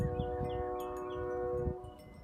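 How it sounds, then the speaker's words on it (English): A distant train passes through town with a low rumble and a sustained tonal horn-like drone, heard from some way off in a garden. "I forgot there's a train that goes through town this time of day."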